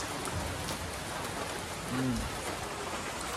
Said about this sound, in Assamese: এতিয়া পুৰা বৰষুণ দি আছে